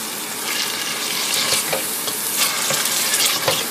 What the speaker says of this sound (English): Let it fry for another 5 minutes.